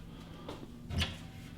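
A hotel room cupboard door in Brussels opens with a soft rustle followed by a single quiet knock or click, close and fairly faint against a low room hum.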